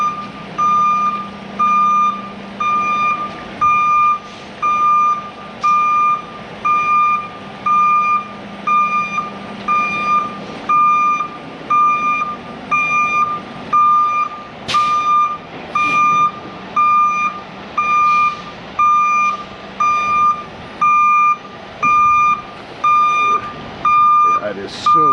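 A Putzmeister 56Z concrete pump truck works its way out of mud. Its reversing alarm beeps in a steady rhythmic series over a low engine rumble, with a few louder knocks and some voices in the background.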